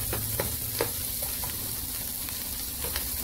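Onion and pepper fry in oil in a pan over medium-high heat for Chinese-style fried rice, a steady close sizzle with a few sharp clicks and pops scattered through it.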